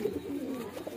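A Magpie pigeon coos softly and repeatedly, close by, a low throaty burbling with no voices over it.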